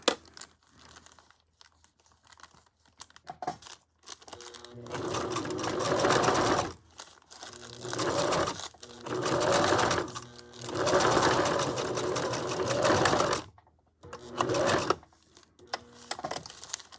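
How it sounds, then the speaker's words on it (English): A sewing machine stitches in several bursts of rapid whirring, with short pauses and faint rustling of fabric between runs. "I'm taking the sewing machine"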